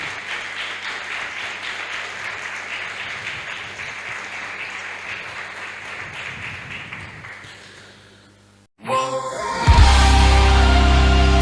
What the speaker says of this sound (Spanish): Denle un aplauso fuerte a la presencia del Padre.